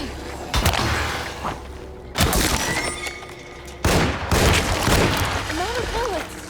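Gunfire aimed at an enemy in the video game Alone in the Dark, with several loud bursts of shots separated by short pauses and a few whooshing game effects between them.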